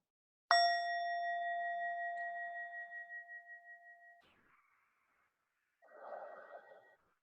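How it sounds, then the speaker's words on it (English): A meditation bell is struck once, giving a clear bright ding whose pure tone rings and slowly fades with a gentle wobble, followed by soft breathy noise and a faint second tone after a pause in a quiet room. "we use the sound of the bell to become more present to the here and now space"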